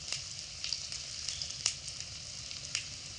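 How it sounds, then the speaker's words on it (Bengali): Potatoes frying in oil in a pan over high heat, a quiet steady sizzle with occasional sharp crackles and faint stirring, no voices. "এবার নাড়াচাড়া করে আলুগুলোকে বেশ লাল লাল করে ভেজে নেব"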